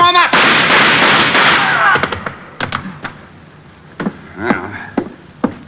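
Gunfire in an old-time detective radio drama: a loud dense burst of rapid shots for about two seconds, then scattered single sharp reports spaced out over the remaining seconds, with no talk over them.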